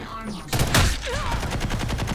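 Gunfire and an explosive rocket blast ring out in the online shooter Ghost in the Shell: Stand Alone Complex - First Assault, a sudden loud burst followed by rapid rattling shots, with a voice talking faintly underneath.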